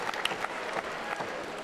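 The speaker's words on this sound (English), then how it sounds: "Huge round of applause" Audience applause at a team combat tournament, a short burst of crowd clapping, moderately loud and continuous.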